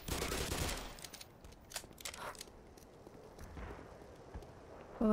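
Sporadic gunfire in the Half-Life recreation Black Mesa, a few sharp shots early then quieter scattered bursts and clatter at moderate distance, ending with a sudden loud burst.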